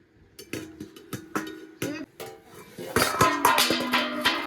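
A metal lid clanks onto a pot of rice cooking with bottle gourd, giving a series of close, ringing knocks and clinks that grow busier and louder toward the end.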